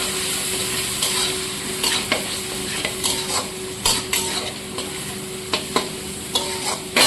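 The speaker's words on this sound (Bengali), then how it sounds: "এবার এটাকে কিছুক্ষণ কষিয়ে দেবো।" Spiced vegetables with Kashmiri chilli powder and a pinch of sugar sauté in a pan, a steady sizzle broken by repeated scraping stirs of a spatula, close and without talk.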